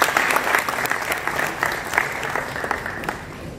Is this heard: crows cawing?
no